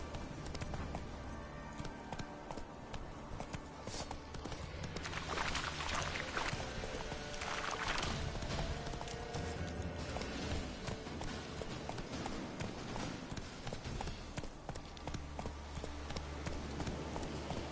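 Hooves of Geralt's horse Roach in The Witcher 3, a steady rhythmic clip-clop of running hooves over quiet game ambience, fairly close and even.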